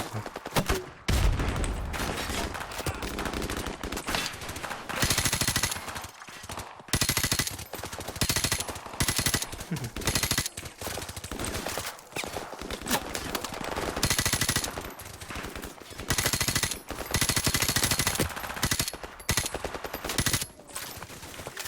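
Sustained automatic gunfire from Call of Duty Modern Warfare Remastered, rapid bursts of loud shots with brief gaps in between, dense and close throughout.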